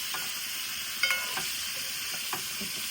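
Spicy pacchi karam prawns frying in a pan while being stirred, a steady quiet sizzle broken by a few light scrapes and clinks of the spoon, with no talking.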